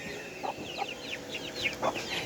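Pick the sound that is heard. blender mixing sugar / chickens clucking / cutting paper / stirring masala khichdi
chickens clucking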